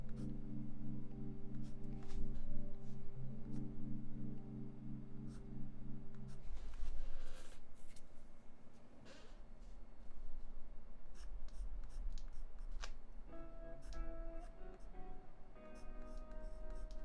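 A pencil moves across paper in layered shading strokes, a steady scratchy rasp with rhythmic back-and-forth strokes throughout, joined by faint tones and clicks in a live portrait drawing session.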